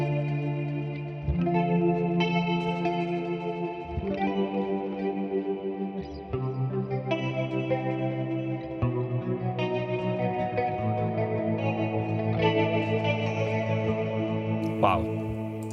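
Electric guitar chords played through a Blackstar St. James amp plugin with subtle tremolo, sustained shimmering strums with chorus-like modulation and light distortion, changing chords every few seconds, clear and up front.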